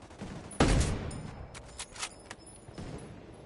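Sniper rifle shots in the Ghost Recon Wildlands video game: one loud, sharp report with a booming tail, then a few fainter, scattered shots and clicks over a low background.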